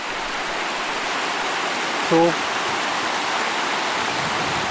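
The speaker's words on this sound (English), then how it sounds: "Heading down this creek toward the lake." Creek water flows toward a lake in Kananaskis grizzly country, a steady broadband rushing wash heard close and continuous, with a brief voice cutting in midway.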